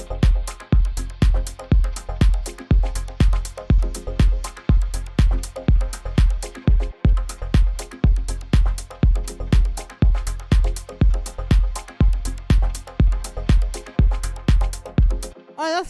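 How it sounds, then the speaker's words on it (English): A weird synth sound filtering up inside a minimal house track, riding over a steady pounding four-on-the-floor kick and dense percussion at a constant loud level, without talk. "having weirder kind of synth sounds like this. So I'm having it filter up during this part."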